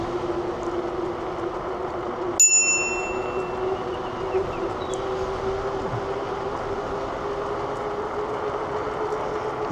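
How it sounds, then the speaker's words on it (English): A bicycle bell rings once, sharp and bright, while riding past on a forest preserve trail, over steady rolling wind and road noise with no talk. "we're gonna have to hit her with the bell here"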